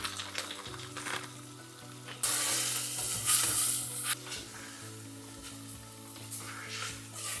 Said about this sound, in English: I've added tofu to the onion mix. At this stage, I'll also add the biryani masala.